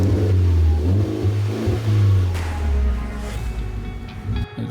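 A car engine revs hard through a holed silencer pipe, the loud raw exhaust roaring and rising in surges, close and alone with no talk.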